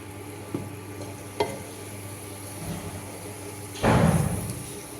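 Chili powder, coriander powder and fish curry powder masala being stirred in a pan for Tamil fish curry, with a few soft scrapes and knocks, then a louder burst of sizzling scraping near the end, close by.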